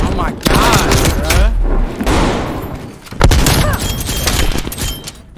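Shotgun fire in the Call of Duty Cold War video game: loud, close blasts repeating in quick succession amid chaotic combat noise, with brief bursts of talking mixed in.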